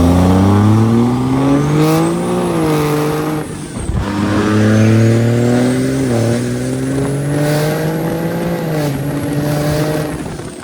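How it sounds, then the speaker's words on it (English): A 4th Gen Cummins diesel truck with a 2G swap revs hard for a burnout, a loud close roar with rising and falling pitch, a brief cut near four seconds and then a long sustained scream with tire squeal. "We're gonna let him do a burnout on my wheels and tires here"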